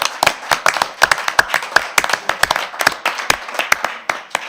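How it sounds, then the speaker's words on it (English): Audience at a school board meeting claps together in a steady round of applause, sharp individual claps close and distinct, sustained throughout. "let's give Marna Patch a round of applause"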